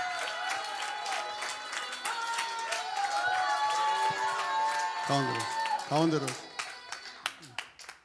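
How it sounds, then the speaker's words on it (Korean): A church audience applauds, with clapping and crowd noise that swell and then break into scattered claps at the end, under amplified speech and music. "크게 자 박수 아끼지 말고 해주세요."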